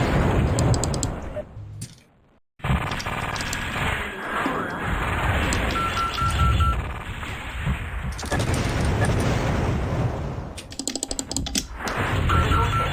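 Weapons fire and an internal ammo explosion inside a mech in the MechWarrior 2 video game, a dense continuous roar of cannon thuds and crackling bursts, while a synthetic cockpit voice speaks warnings over it.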